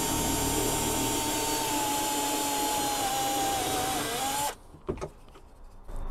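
A drill boring a 6.5 mm hole with a steady high whine, as when removing a broken screw under a hinge. The whine runs loud and continuous for about four and a half seconds, then stops abruptly, leaving faint knocks and handling noise.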